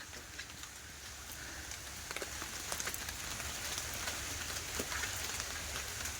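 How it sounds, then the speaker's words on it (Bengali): Light drizzling rain patters steadily outdoors with soft scattered drops and a few sharper taps, fairly quiet and continuous throughout with no talking. "বৃষ্টি হয়ে গেছে এখন টিপটিপ করে পড়ছে"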